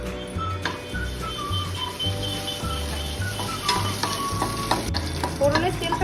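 Whole bay leaf, a dried chili and whole cumin seeds sizzle steadily in hot oil, close and even, with faint stirring and crackle over a low rhythmic background hum.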